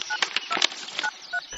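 A telephone being dialed produces a quick run of short keypad tones, several beeps in uneven succession over about a second and a half, close and clear with no talk.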